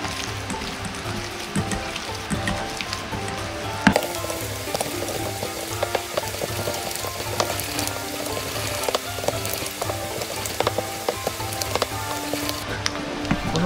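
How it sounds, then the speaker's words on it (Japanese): Seasoned ground meat for gluten-free rice-flour gyoza filling, mixed with gluten-free soy sauce, is kneaded by hand with steady wet, sticky squelching that carries on without pause and with no one talking. "味を入れたら肉の粘りが出るまでしっかりと練り込みます"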